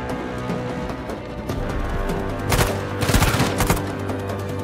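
Uncharted 4 gunfire rings out as a quick cluster of sharp shots near the end, rising over a steady, dense game backdrop without talking.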